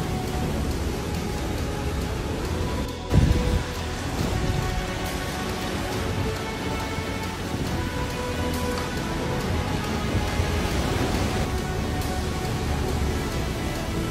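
A loud, continuous sandstorm and strong windstorm roar in Manaus, Brazil, with rushing noise and a rumbling gust partway through, steady throughout, no one talking over it.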